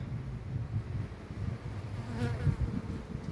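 Honeybees hum in a low, continuous drone close by at a hive with a nectar-filled super, the buzzing swelling slightly at moments with no voices present.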